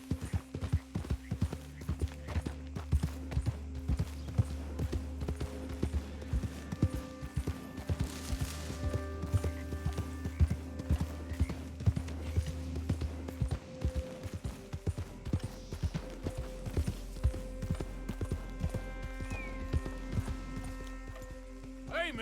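Horse hooves clip-clopping in Red Dead Redemption II, a steady, close rhythmic gait that runs for over twenty seconds with a faint whinny and game ambience behind it.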